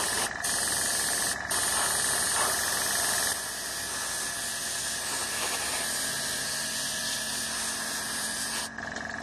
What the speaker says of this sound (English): This is where having a dual action airbrush really helps.